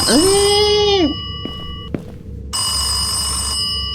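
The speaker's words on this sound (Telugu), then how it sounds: "ఫోన్ అయితే వస్తుంది." In a scary ghost-haunting video game, a loud, close electronic telephone ring sounds as a sustained warbling tone, breaks off, then resumes with a second ringing burst, joined by a couple of brief clicks and a thud.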